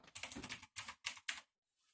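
Bursts of fast clacky typing on a mechanical keyboard with Kailh Blue switches, a dense run of keystrokes followed by three separate clicks, close and crisp in a quiet room.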